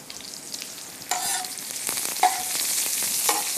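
Cumin seeds and onions frying in oil for tawa keema, a steady close sizzle that jumps louder partway through as more goes into the pan, with stirring scrapes on top.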